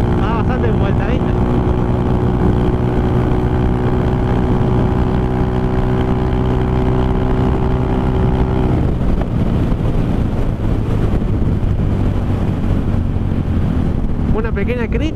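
A Honda Twister 250 motorcycle with a carburetor and aftermarket exhaust is ridden, its loud steady engine drone heavily buffeted by wind noise, with the engine pitch dropping and shifting about halfway through.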